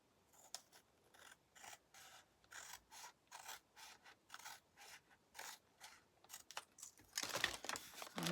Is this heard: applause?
no